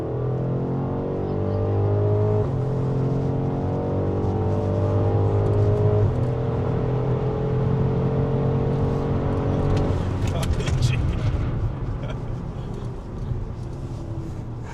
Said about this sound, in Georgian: აბა ეხა გავზომოთ 0-100 ლანჩ კონტროლი გავააქტიუროთ